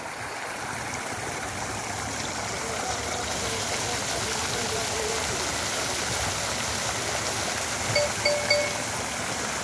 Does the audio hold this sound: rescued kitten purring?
no